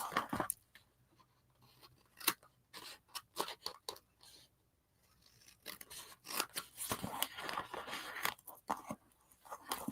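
Scissors snip through paper flaps for a collage book in a series of sharp, close cuts with short pauses between bursts, some quick crunchy runs of snipping, and no talking.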